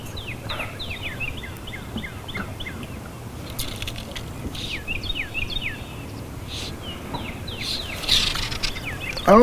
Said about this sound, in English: Hear the eagles talking back there and behind Eagle Island.